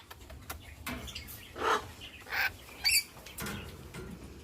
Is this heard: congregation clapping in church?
no